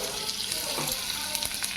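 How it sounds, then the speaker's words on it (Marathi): Mustard seeds and cumin sizzling in hot oil for a tempering, a dense continuous hiss up close with a few faint crackles and pops, no talking. "आता अशी खमंग फोडणी आपण केलेली आहे"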